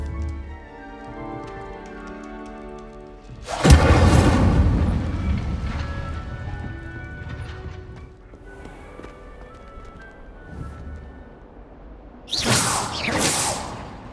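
A fire spell cast in Hogwarts Legacy, heard as a sudden loud whooshing burst that rumbles and fades over several seconds, followed later by a second sharp fiery swoosh, with ambient game music underneath.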